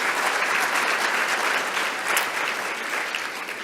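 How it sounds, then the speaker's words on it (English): An audience at a school district awards night applauds loudly and steadily, the dense clapping carrying through the whole stretch before easing slightly at the end. "we need to give a round of applause."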